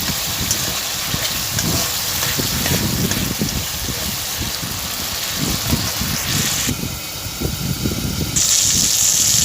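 Water gushing into a sizzling spice mixture in a pan while cooking a thin katla fish curry with papaya, a loud continuous rushing and hissing with frying crackle, steady for several seconds.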